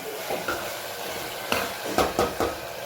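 Water is added to a pan of masala that sizzles steadily, with a few sharp splashy bursts near the end and no talking over it.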